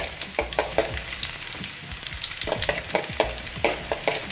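Weaver ants fry with garlic in a pan, giving a loud, close sizzle broken by rapid, repeated scraping stir strokes in an uneven rhythm, with a brief lull midway.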